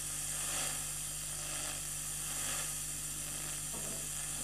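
Steady broadband static hiss from a self-built FM receiver being tuned at its IF filters, continuous and fairly loud with a faint low hum beneath and no voices.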